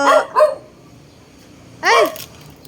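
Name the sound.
dog barking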